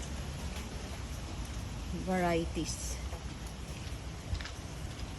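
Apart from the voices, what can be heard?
heavy rain during Super Typhoon Enteng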